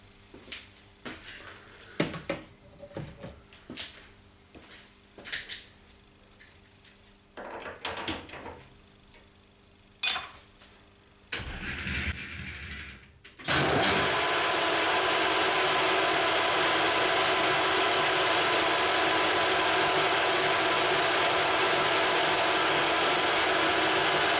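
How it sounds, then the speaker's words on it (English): Metal lathe chamfering the front edge of a steel universal tailstock die holder; intermittent clicks and handling knocks, then the machine starts and runs with a steady, loud, even whir. "So we'll just chamfer that now on that front."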